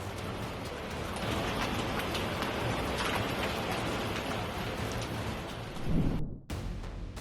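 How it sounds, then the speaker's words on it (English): A fierce storm over Texas drops hail and rain, giving a dense, steady hiss of pelting impacts with a heavier thud near the end and a short break before the rough patter returns. "A fierce storm swept across Texas, unleashing hail over Bogota"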